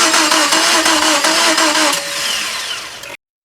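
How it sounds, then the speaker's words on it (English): A Subaru Impreza engine with no spark cranks steadily without catching, the starter's whirring churn loud and continuous for about three seconds before cutting off abruptly. "Now it's looking like we got no spark, so we'll give it a crank."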